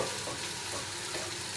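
Steady sizzle of chicken frying in its own rendered fat with no added oil, a close, continuous crackle and hiss without voices.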